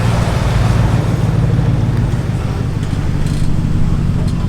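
A GM gas pickup truck fitted with a Magnaflow cat-back exhaust idles close by, its loud, steady low-pitched exhaust rumble droning evenly throughout.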